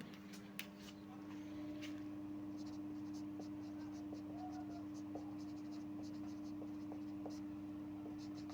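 A chemistry definition being written on a board, faint scratchy strokes and light taps spread over several seconds, quiet beneath a steady electrical hum.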